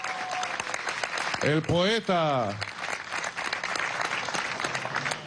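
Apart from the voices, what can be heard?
crowd applause welcoming minister Alfred Nazareño Áñez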